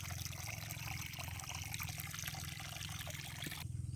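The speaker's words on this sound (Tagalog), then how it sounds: "ayan kalakas ng bukal" Water from a natural spring flows steadily near a rice field, a continuous trickling, gurgling stream heard close and alone, with a brief shift in tone near the end.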